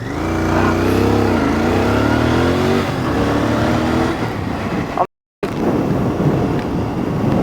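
A 2023 Royal Enfield Continental GT 650 twin-cylinder motorcycle revs up and pulls away, its engine tone rising steadily through the gears, loud and close with heavy wind buffeting the microphone and a brief dropout near the end.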